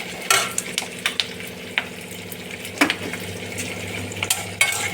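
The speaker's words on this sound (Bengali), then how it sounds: "ওদিকে পেঁয়াজটা ভাজা হচ্ছে" Chopped onion sizzles and fries in a pan while pasta is being made at home, with a continuous hiss broken by sharp clinks and scrapes of a spatula stirring against the metal.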